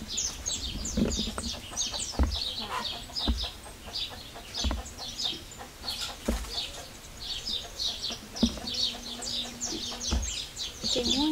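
Chickens cluck repeatedly nearby on a farm in short irregular bursts, with a few louder knocks and some faint bird chirps in the background.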